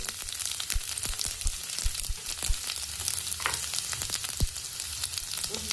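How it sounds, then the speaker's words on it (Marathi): Mustard seeds and cumin fry in hot oil in a home kitchen, a continuous close sizzle with scattered sharp pops and crackles as the seeds burst. "तेल गरम झालं, मोहरी घातली, जिरे घालायचे, कढीपत्ता असेल तर कढीपत्ताही घाला."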